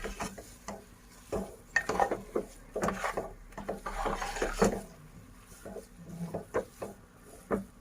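A thick jaggery laddu mixture for a Sindhi-style sweet is stirred and scraped around a pan with a wooden spoon, giving repeated close scraping and knocking strokes in an uneven rhythm with a faint sizzle underneath.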